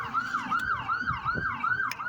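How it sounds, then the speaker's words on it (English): Emergency vehicle siren wailing in a fast, regular up-and-down sweep, about six cycles, fairly loud and nearby, with road traffic noise underneath. "you hear that siren"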